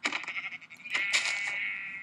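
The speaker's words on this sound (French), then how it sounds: "on commence par tuer les moutons, hein, parce que si on veut des lits" Sheep bleat in a survival video game, with a wavering, nasal call and short stuttering tones, close and clear with no talk.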